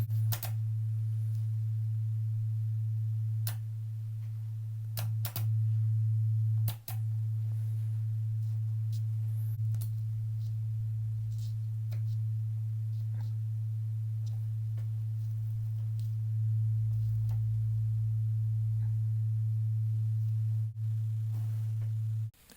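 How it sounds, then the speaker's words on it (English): A steady low 808-style sub sine tone hums continuously throughout, with occasional faint clicks over it. "I can record that sine wave"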